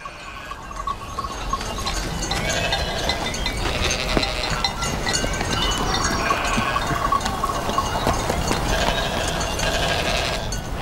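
Sheep bleating in a flock scene, a steady layer of overlapping calls with a faint clinking, like bells or gear, continuing throughout with no talk.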